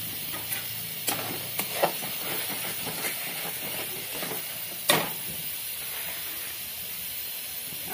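Masala for a soybean curry frying in a pan, giving a steady, loud hiss and sizzle throughout with scattered scraping clicks from stirring.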